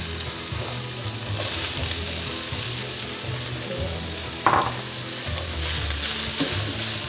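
Minced meat frying in a pan with peas and carrots, a steady close sizzle with stirring scrapes and one brief louder clatter midway, no talk.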